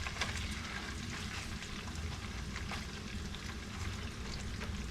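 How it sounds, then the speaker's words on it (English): Bacon sizzles steadily in a pot on a stove at low temperature, a continuous close crackle and hiss with no pauses. "Get a little sizzle there."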